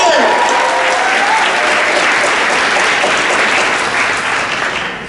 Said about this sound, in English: Could I please get one more round of applause